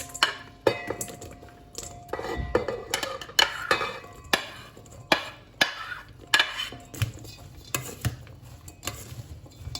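Sliced red onion, tomatoes and grated carrot go into a bowl in a home kitchen, with close clinks and clatters of utensils against the dish. The knocks are irregular and repeated, and no one speaks.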